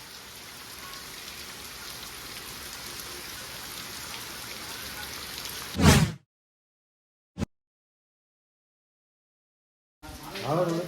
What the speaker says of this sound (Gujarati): વરસાદ ચાલુ થઈ ગયો